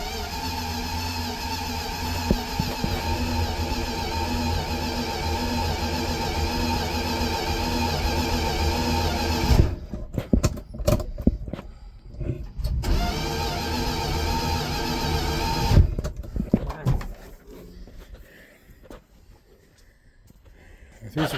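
A Trailduster's engine is cranked without catching, the starter's steady churning drone running for several seconds, stopping, then resuming for another stretch before cutting off into quieter background with brief knocks.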